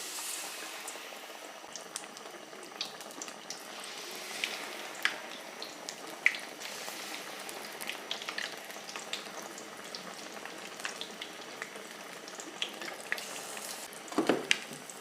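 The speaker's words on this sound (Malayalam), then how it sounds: "ഓരോന്നായിട്ട് മാവിലോട്ട് മുക്കിയിട്ട് എണ്ണയിലോട്ടിടാം." Battered banana fritters (pazhampori) bubble and boil steadily in hot oil, a continuous close frying hiss with small crackles throughout and a brief louder burst near the end.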